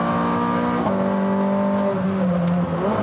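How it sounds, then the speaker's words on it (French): A high-revving Ferrari F430 Scuderia engine screams up through the gears, its pitch dropping sharply at each quick shift before climbing again. "ce petit coup de gaz à chaque fois qu'on rentre un rapport. Les vitesses passent hyper vite."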